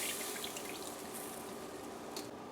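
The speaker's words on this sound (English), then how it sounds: "we're going to pour the 1 can of milk in here, the evaporated milk in here" Evaporated milk pouring from a can into a hot karahi pan while making Guyanese pera, a steady quiet liquid stream running without a break and heard alone.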